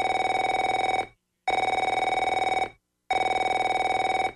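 A telephone rings three times, each a loud, close electronic bell burst of about a second, separated by short silences.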